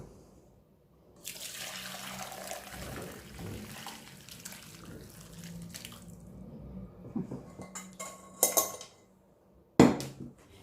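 Herbal drink strained and poured into a cup, a steady splashing stream of liquid lasting several seconds before easing off, followed by a few sharp clinks of crockery near the end.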